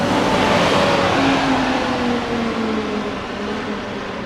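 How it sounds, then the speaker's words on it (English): A bus passes along a busy road near Twerton, its engine noise swelling loud and close with a slowly falling drone as it goes by over steady traffic. "And that was one of the buses that just passed."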